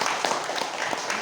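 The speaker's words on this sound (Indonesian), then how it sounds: "Tepuk tangan." Short burst of applause from an audience at a Kemenag official's visit to a Catholic parish church, dense clapping at moderate level.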